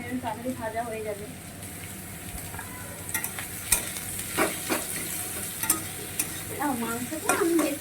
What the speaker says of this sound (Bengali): পেঁয়াজ তাড়াতাড়ি ভাজা হয়ে যাবে।